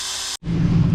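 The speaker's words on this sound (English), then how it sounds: "It's definitely pumping it down." A sump pump pumping water down in a pit, giving a steady mechanical whir and hum at close range that cuts out briefly, then resumes with a lower droning rumble, with no talk.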